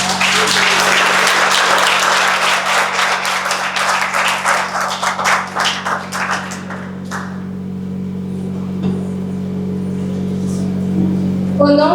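Audience applause at a theatre-style presentation, a dense burst of clapping that builds loudly and then thins into scattered claps before fading out around halfway, leaving a low steady hum.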